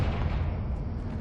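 A short, dense boom of the Confringo fire spell in Hogwarts Legacy, a continuous loud low rumble lasting barely over a second with no voices.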